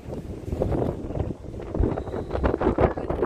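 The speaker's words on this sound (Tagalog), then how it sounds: "Talaga sarap ng hangin." Wind gusting across a microphone at the Mina District waterfront of Doha Port, with low rumbling buffets that swell and ease irregularly, close and moderately loud, no talking.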